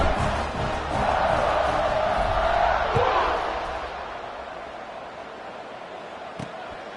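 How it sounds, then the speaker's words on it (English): Stadium crowd in College Football 26 roars loudly and steadily before a kickoff, swelling for the first three seconds then easing to a lower sustained din, with a brief thump near the end. "Kickoff unit is out there again, and this crowd is feeling themselves after that last drive."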